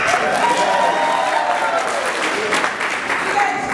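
Audience applause at a fan convention panel with the Lone Gunmen actors, a dense, sustained wash of clapping from a crowd, fairly loud and even throughout, with a voice briefly over it.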